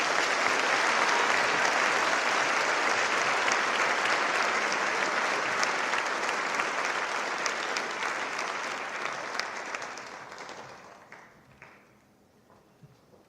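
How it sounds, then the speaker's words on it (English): Sustained applause from a large crowd at a high school senior night, steady and loud for about ten seconds before tapering off into a few scattered claps. "Let's give her one more round of applause"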